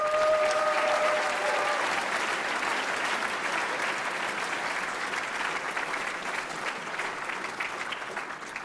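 Audience at the 2017 National Academy of Sciences presentation ceremony gives a sustained round of applause, loud at first and slowly thinning, with no talking.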